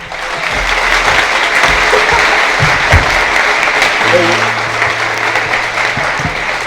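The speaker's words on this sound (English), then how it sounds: "with a great big round of applause, will you up-tempo your applause just a little bit" Loud, sustained audience applause fills a 1970 live concert in Washington DC, steady dense clapping with a few low thumps and murmurs beneath it.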